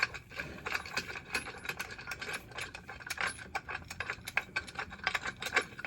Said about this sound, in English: let me get this long bolt out.